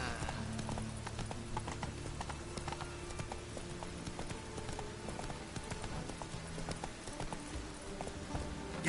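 Horse hooves clip-clopping at a steady gallop in The Witcher 3, a continuous rhythmic drumming of hoofbeats up close, with a faint whinny and ambient game sound underneath.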